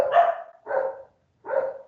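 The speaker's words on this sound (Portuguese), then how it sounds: "meus cachorros estão dando escândalo aqui, galera" Dogs bark indoors in three sharp, close barks spaced by short pauses, fairly loud and alone.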